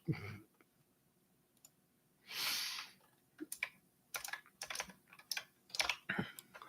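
Someone types on a computer keyboard in irregular bursts of quick, crisp key clicks, close and fairly quiet, with a louder clack partway through and no talking.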